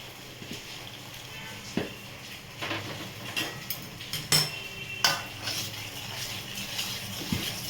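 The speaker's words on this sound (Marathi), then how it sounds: "छान असं मिक्स करायचं" A metal spoon stirs vermicelli with hot milk and jaggery in a pot, giving irregular clinks and scrapes against the vessel over a low background hiss, fairly close and soft.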